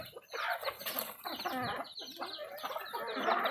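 Labuyo junglefowl cluck and stir nearby, quiet scratchy calls mixed with brief flutters of wings, fairly faint and uneven throughout.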